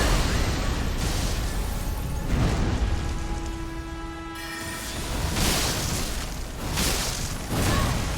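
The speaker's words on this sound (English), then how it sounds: "Explosion!" An explosion in the video game Elden Ring: Shadow of the Erdtree produces a loud, sustained roar of blasts and rumble, with a thin tonal hum rising and fading partway through, no talking.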